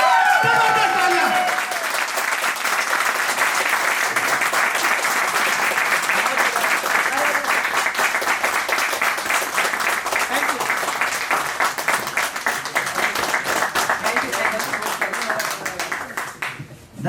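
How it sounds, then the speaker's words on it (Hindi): Sustained applause from an audience at an open business network meeting in Saharanpur, dense steady clapping filling the room throughout and easing slightly near the end. "जबरदस्त तालियां, जबरदस्त तालियां।"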